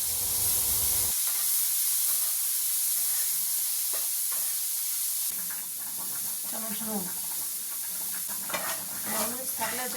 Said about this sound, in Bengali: এবার একটু সাদা তেল গরম করে তাতে ওই কোচানো সবজি দিয়ে হালকা নেড়ে স্বাদ মতো নুন দিয়ে গ্রেটেড পনির দিয়ে আরও কিছুক্ষণ নেড়ে নিতে হবে।